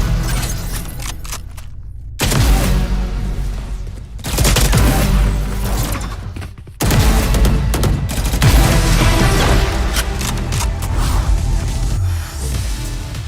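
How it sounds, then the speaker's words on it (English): Valorant Champions Collection weapons fire in rapid bursts, loud and dense, with punchy effect hits and short gaps between volleys, no voices. "The kill banner has one of the most satisfying sounds"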